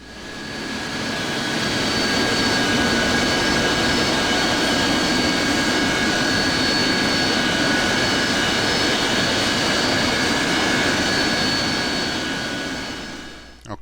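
A steady, loud jet engine roar with a thin high whine comes from an AV-8B Harrier taxiing toward the runway in the DCS World flight simulator. It fades in and out at the edges, with no voices.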